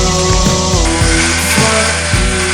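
A power saw cuts 1/2-inch plywood pieces, a loud, close, continuous whine with a few slight dips in pitch as the blade bites through the wood.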